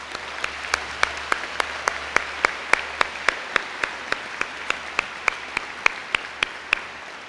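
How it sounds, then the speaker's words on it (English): Applause from a graduation ceremony audience honoring teachers, heard as a steady stream of crisp, evenly spaced claps, fairly close and rhythmic, continuing for several seconds. "Please join me in giving this outstanding group a round of applause."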